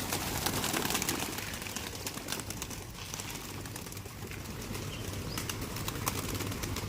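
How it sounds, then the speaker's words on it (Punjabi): Pigeons flying in a village, a steady dense rush of flapping wings and air with some faint cooing, continuous and fairly close throughout, with no talking. "ਉੜਦੇ ਕਬੂਤਰਾਂ ਦੇ ਖੰਭਾਂ ਦੇ ਨਾਲ ਹਵਾ ਦੇ ਨਾਲ"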